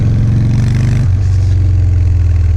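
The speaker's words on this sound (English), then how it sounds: "The good thing about the twin cam is it makes a good amount of noise." A Harley-Davidson Dyna Fat Bob with a twin cam engine revs loud and close, giving a deep throbbing rumble that drops sharply partway through and then settles into a steady pulsing idle.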